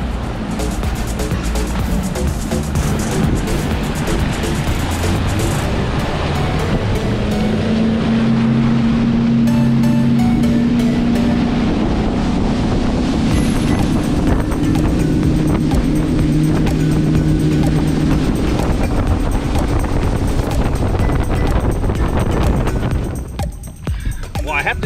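Bass Cat fishing boat taking off on wind-chopped water, its outboard engine roaring loudly and climbing in pitch over steady rushing spray and hull slap, with a voice briefly heard.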